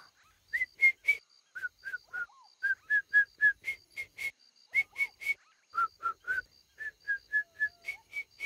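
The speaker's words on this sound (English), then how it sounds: "Can you whistle for me again?" Whistling in a bouncy run of short, bright notes, evenly spaced and close, repeated in quick phrases with brief pauses.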